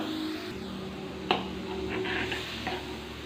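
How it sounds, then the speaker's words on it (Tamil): Water bubbles and hisses steadily in a pan, close up, with a single metallic clink partway through. "நல்லா கொதித்து வரட்டும்"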